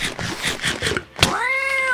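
A hostile cat in Minecraft gives a run of short, choppy cries, then a single long, rising-and-falling meow, loud and close with no talking.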